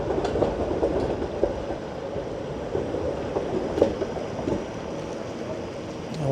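A streetcar passes on a downtown Toronto street early on a dark winter morning: a steady, fairly loud rumble of wheels and motor with faint rail clatter and scattered knocks, and no one speaking.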